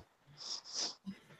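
One person sneezes during a chat, a breathy hissing sneeze in two quick bursts followed by a brief low snort, fairly faint and close.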